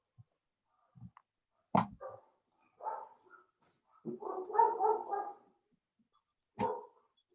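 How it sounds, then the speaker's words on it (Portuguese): Two household dogs bark indoors in scattered single woofs and a short burst of several barks, moderately distant and separated by quiet gaps. "Tem 2 cachorros em casa"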